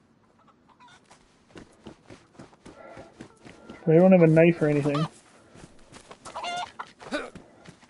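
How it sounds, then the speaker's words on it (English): A chicken clucking in DayZ, a short burst of loud, close clucks in the middle of the scene amid footsteps and other movement, with someone talking over it. "There's a chicken somewhere."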